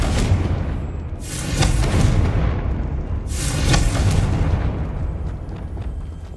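Confringo explosion spell cast in Hogwarts Legacy on PS5, two heavy booming blasts a couple of seconds apart over a constant rumbling background, loud and close with long decaying tails.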